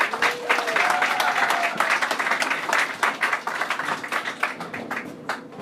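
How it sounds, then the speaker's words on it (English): Audience applause from a live evening show audience in Seattle, steady dense clapping that swells then thins into scattered individual claps, with a faint voice briefly audible early on. "So give yourselves a round of applause."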